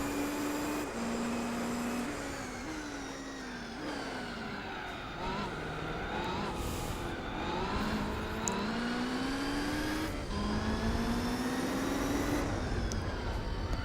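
A race car's engine in Gran Turismo 4 revs hard and steadily, its pitch climbing through each gear and then dropping at the shifts, loud and continuous while a voice talks over it.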